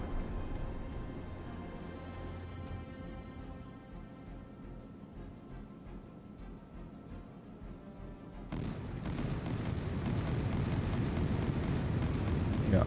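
Naval guns in the naval warfare game Sea Power fire bursts, heard as a dense rumbling barrage that grows louder and heavier toward the end, over a constant low background drone.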